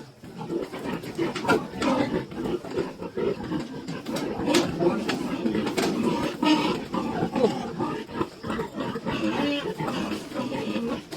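A breeding sow on a pig farm grunts and snorts steadily at close range, mixed with other pen noise and occasional human speech.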